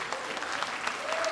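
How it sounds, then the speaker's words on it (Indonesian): Brief burst of steady applause from a church audience welcoming a pastor to the stage, even and fairly close, with faint voices beneath. "Jadi mari kita tepuk tangan kita bersama."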